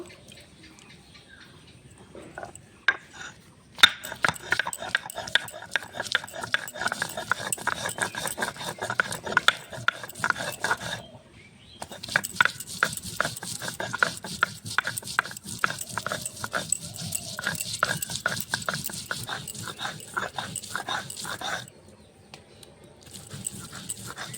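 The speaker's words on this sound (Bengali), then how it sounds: "আমি এখানে আদা জিরেটা বেটে নেব" Ginger and cumin ground by hand on a stone grinding slab, giving steady rhythmic scraping and rubbing strokes that run in long bursts with a few short pauses, close and moderately loud.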